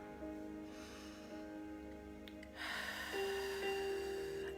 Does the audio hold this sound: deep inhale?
yes